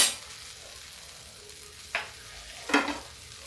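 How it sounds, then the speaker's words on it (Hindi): Barley dosa on a hot griddle, a soft continuous sizzle broken by two short scraping thuds as it is flipped over; no talking. "अब देखिए इसको फिर हम ऐसे पलट देते हैं"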